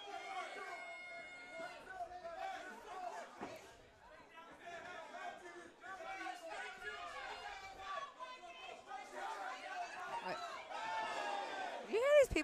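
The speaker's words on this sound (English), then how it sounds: "You hear these people talking shit in the crowd?" Spectators at a cage fight event chatter in a constant crowd babble, with overlapping voices near and far and an occasional whoop rising out of the noise.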